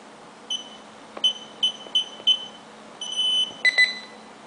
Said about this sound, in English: Now we can disarm first on the keypad.